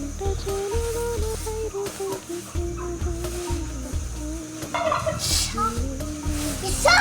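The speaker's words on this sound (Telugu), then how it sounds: "అయితే టర్కీ కోళ్ళు అని అంటామండి మేము" Turkeys gobble and call repeatedly nearby, a warbling chorus of fowl over low background noise, with a brief rustle midway.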